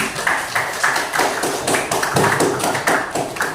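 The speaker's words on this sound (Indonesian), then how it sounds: "kasih tepuk tangan lagi" A class gives another round of applause, clapping in a fairly regular, pulsing rhythm with sharp, close hand claps and little talking.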